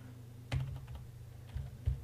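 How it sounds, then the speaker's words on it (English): Keystrokes on a computer keyboard while entering a component name in Tekla Structures software, a few separate taps and short bursts, close and fairly quiet, with no speech. "Now I just type concrete deck"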